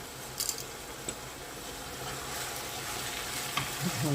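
Dried garlic sizzles in oil in a pan as part of a macaroni sauce, making a faint, even frying hiss with a few soft clicks and stirring touches, close by and without talk.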